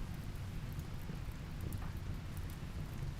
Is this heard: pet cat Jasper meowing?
no